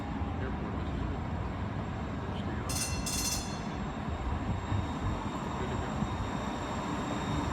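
A train rolls past at a station, a steady low rumble of wheels and cars with a brief high screech partway through, heard from close by on the platform.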